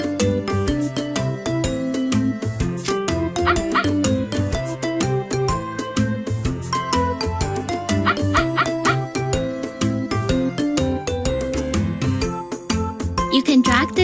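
A cartoon puppy in a kids' animal hospital game yips and barks over a busy, jingly music track, with short bright chimes sprinkled throughout.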